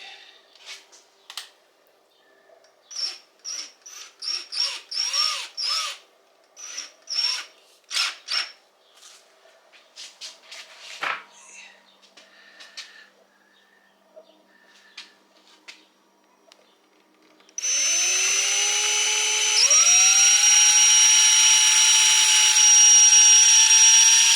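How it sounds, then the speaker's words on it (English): Scattered knocks and short whirs of handling give way to a power drill spinning up loudly into a long, steady, high whine as it bores holes into wood in an RV closet. "so that we don't split the wood. Alright, so let's we're going to drill some holes."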